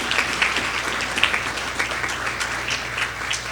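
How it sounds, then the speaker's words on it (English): A debate finals audience gives a round of applause for Destiny after her performance, a loud, sustained burst of many hands clapping with scattered sharper claps standing out, close and continuous throughout. "Please give her a round of applause again."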